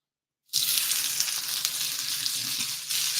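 Scallion whites drop into a hot cast iron wok and burst into a loud, steady sizzle that continues unbroken after a short silence, with no voices over the frying.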